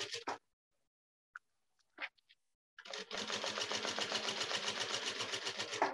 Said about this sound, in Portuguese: aí a gente vai trazer pra máquina e vai passar uma costurinha de meio pezinho de máquina